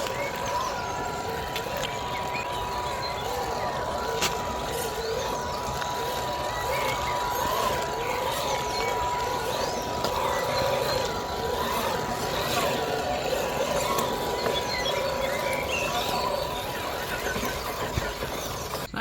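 A stock ROCHobby Atlas 4x4 1/10 scale RC crawler on stock tyres and 2S power ploughs through mud. Its high electric motor whine runs steadily throughout, with squeals and splashy churning, and people talk over it.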